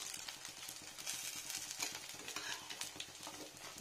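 Capsicum fries in oil in a pan, a faint, busy sizzle with rhythmic stirring scrapes running continuously throughout.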